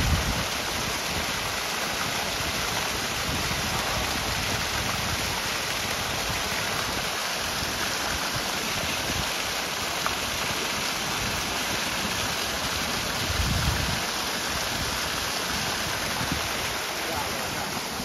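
Continuous broadband rushing of a small waterfall in the hills on the route to George Everest, Mussoorie, heard up close and fairly loud, an even churning of water with slight surges and no pauses.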